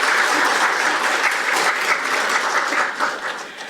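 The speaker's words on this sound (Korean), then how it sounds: "여러분 큰 박수 부탁드립니다." Applause from a forum audience at a National Assembly event, a steady wash of many hands clapping, moderately loud and alone, fading slightly toward the end.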